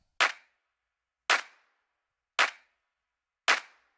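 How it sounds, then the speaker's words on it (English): Three clap samples stacked into one layered drum clap in Ableton for an edit, struck four times at an even, steady pace; each hit is crisp, loud and snappy, with silence in between. "So all 3 of them together sound like this."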